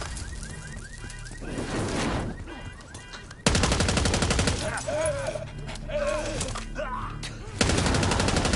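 Heavy automatic gunfire and repeated gunshots in a Black Ops 6 campaign street battle against an approaching limo, loud and sustained with abrupt bursts, under shouted voices.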